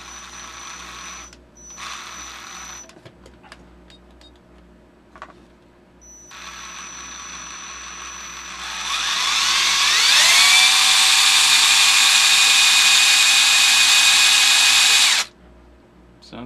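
The motors of an Xr10 RC rock crawler fitted with creep motors start up with a rising electric whine that settles into a loud, steady drone lasting about six seconds before stopping abruptly, with a few quieter whirs and clicks beforehand.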